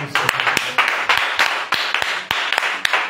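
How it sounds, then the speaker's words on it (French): Congregation in a church service clapping together in a quick, irregular rhythm, sharp hand claps landing close and loud over a steady wash of acclaim and voices, with no single speaker standing out. "Bien-aimé, acclame encore une fois."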